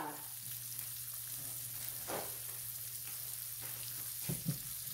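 A red snapper fillet frying gently in a pan, a quiet continuous sizzle with a couple of faint crackles and a small pop near the end, no voices.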